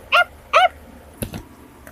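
A dog gives two short, sharp barks close by, followed by a couple of faint knocks, with no talking over them.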